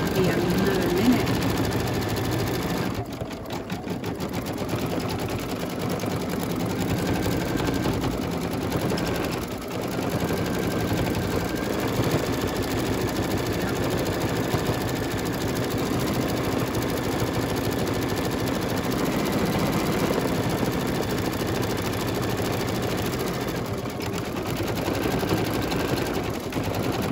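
An embroidery machine stitches leaf branches on a mug rug in the hoop, a continuous rapid whirring and needle chatter held steady at moderate volume, with a few brief pauses and occasional speech.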